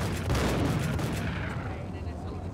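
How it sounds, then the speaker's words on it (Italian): A burst of rapid gunfire in Max Payne, loud and dense at first, then fading into a rumbling echo. "Semplicemente sparo senza fermarmi"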